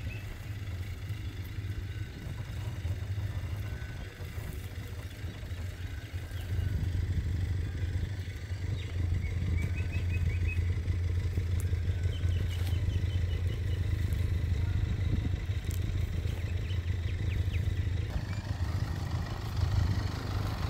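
A Benelli motorcycle engine runs during a bike ride on the ECR, giving a steady low, throbbing hum that grows slightly louder partway through, with faint clatter around it.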